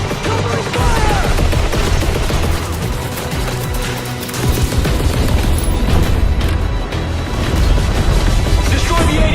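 Gunfire in a World War II video game battle, a dense and continuous barrage of shots and booms, very loud and close, with no clear gaps.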